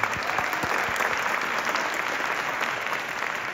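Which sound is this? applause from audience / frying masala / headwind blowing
applause from audience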